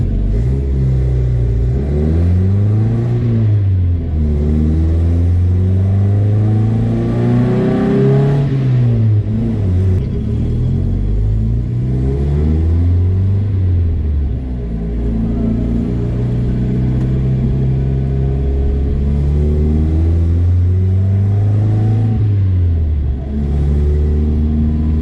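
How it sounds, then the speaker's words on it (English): A Datsun 521 truck's engine runs on a test drive, heard loud and close from inside the cab, rising and falling through repeated revs and gear changes as it accelerates and eases off, with a constant rumble underneath. "I'm gonna go test drive it."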